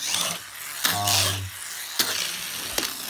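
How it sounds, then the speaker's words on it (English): Disney Cars Stunt Racer toy car being revved by hand, a sharp ratcheting whir with a buzzing gear tone lasting about half a second, followed by a few clicks, close and fairly loud. "if you rev him up, he's going to go faster"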